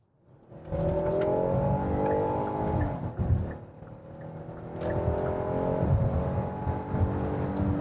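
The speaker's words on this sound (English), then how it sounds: "let's get up here on the interstate and listen to this exhaust." A car engine and exhaust build with a rising drone as the car accelerates onto an interstate, easing off briefly before pulling harder again, loud and close.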